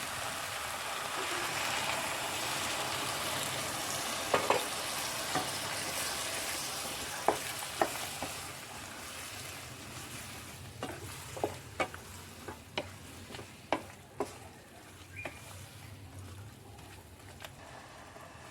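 Hot water goes into a pan of frying soybean masala curry, producing a steady broad hiss and sizzle with a series of sharp spoon clicks and taps as it is stirred, close and alone.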